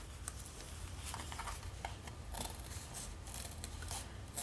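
Scissors trim an excess paper strip for a paper pumpkin wreath craft kit, a quick series of soft crisp snips and paper rustles, close and quiet, with no talking.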